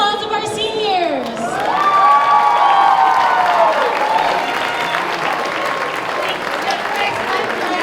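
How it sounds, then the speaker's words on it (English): An audience at a school cultural night showcase applauds and cheers for the seniors, sustained clapping with whoops and shouts building then easing, after a brief swooping tone at the start. "Can we do another round of applause of our seniors?"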